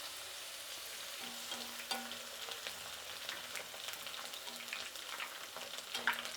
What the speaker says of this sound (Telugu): ఇప్పుడు తెల్లగడ్డ వేసుకుందాము